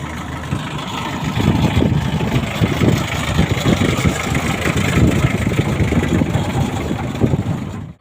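A two-engine farm machine with an air-conditioned cab runs steadily during maize work, its engine hum and low rumble continuous and fairly loud throughout.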